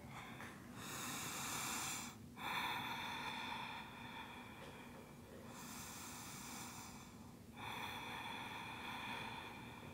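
Slow, deep breathing during a morning yoga flow, long airy inhales and exhales alternating in a steady rhythm, close and quiet, with no talk.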